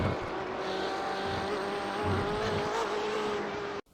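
A BMW M8 GTE in the iRacing sim at Watkins Glen powers out of a corner, its engine roaring in a sustained, slowly rising tone before cutting off abruptly at the end.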